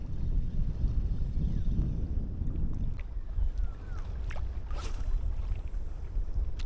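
Strong wind buffets the microphone on a shore during a fishing outing, a loud low rumble that gusts for the first few seconds and then eases to a lighter rush.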